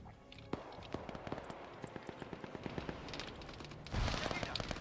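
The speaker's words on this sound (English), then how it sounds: "Now we got that M2 firing." An M2 heavy machine gun firing in Arma 3: a steady run of evenly spaced, distinct shots at a measured pace, moderately distant, with a louder burst of noise near the end.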